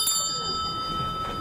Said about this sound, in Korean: 다시 종소리를 한번 들으려고 했습니다.